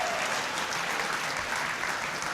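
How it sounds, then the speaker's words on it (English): Audience applause for two rugby legends at a Limerick community awards night, a dense, steady clapping filling the room at close range with no talk over it. "Can we give them a round of applause, please?"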